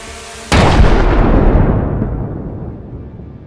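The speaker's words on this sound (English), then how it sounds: "The resulting explosion is massive, completely destroying the Russian Grad MLRS" A single loud, sudden blast booms out as a drone strike destroys a Russian Grad multiple rocket launcher, followed by a long rumbling roar that gradually fades away.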